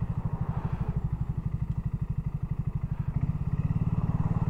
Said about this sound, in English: This is probably the smoothest single cylinder I've ever ridden this.